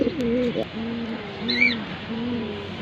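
Racing pigeons coo in low, rolling phrases close by, repeating through the clip, with a brief higher bird chirp partway through.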